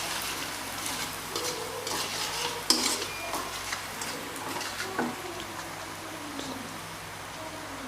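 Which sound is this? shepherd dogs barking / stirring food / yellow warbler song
stirring food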